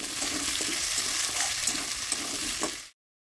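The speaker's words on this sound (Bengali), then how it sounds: "গাজর আর কুমড়োগুলো নেড়ে চেড়ে একটু ভেজে নিতে হবে।" Carrot and pumpkin pieces stir-fry in a pan for a mixed vegetable dish, making a continuous close sizzle with occasional stirring clicks before the sound cuts off abruptly.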